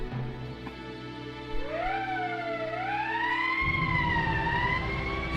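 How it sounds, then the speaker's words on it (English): In the Valkyria Chronicles video game, an emergency siren wails with a rising, wavering tone over a low background hum. It sounds loud and continuous, with no talking over it. "That's the emergency siren."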